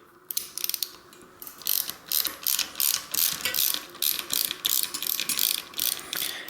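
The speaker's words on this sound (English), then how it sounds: "I'm going to start off by removing the disc brake caliper from the fork" A ratchet wrench clicks in rapid repeated bursts, close and crisp, while a disc brake caliper is unbolted from an RST Gila Pro bicycle suspension fork.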